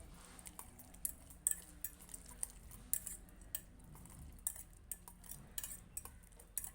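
A spoon mixes an egg mixture in a bowl, quiet close clinks and taps scattered irregularly over a faint steady background hush.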